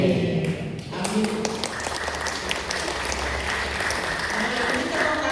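Applause in a church after an intercessory prayer at a Christmas service for elderly members, a steady wash of many hands clapping throughout, with murmuring voices underneath.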